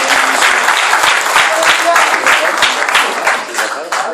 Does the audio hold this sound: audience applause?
yes